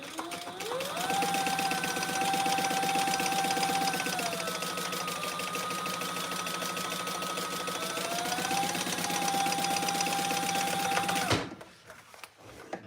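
A sewing machine bastes a trifold wallet, running in one long, steady whirring stitch burst with a slight change in pitch partway, then stopping abruptly near the end, leaving near silence.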